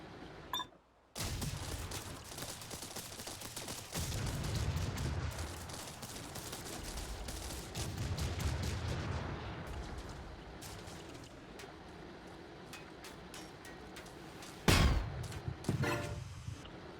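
Turret fire in the modded vehicle-building game TerraTech comes as a sustained, fairly faint rattle of shots with heavier pulses, then a sharp loud blast near the end.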